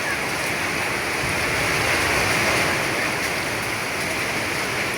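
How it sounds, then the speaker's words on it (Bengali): Heavy rain pours down steadily in Kabirpur, Dhaka, a dense, continuous hiss that stays loud and even throughout, with no voices. "কবিরপুরের মধ্যে ভালো বৃষ্টি হতেছে।"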